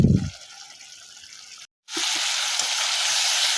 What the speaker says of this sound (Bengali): একে একে সব মশলা দিয়ে দিলাম, মশলা সব কষিয়ে নিই।